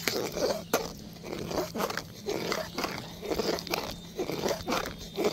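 Thick khichuri with nuts and raisins stirred in a pot, a spoon scraping and squelching in steady repeated strokes with soft crunchy textures, close and moderately loud without talk.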